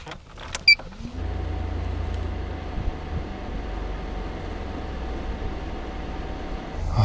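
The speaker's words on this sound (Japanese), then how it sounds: "早速エアコンつけます。" Air conditioner in a kei camper van starting up after a couple of clicks, then settling into a steady, low fan and compressor hum that runs on evenly, close by inside the cabin.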